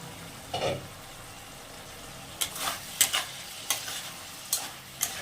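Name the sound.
stirring and frying spices with potatoes in a pan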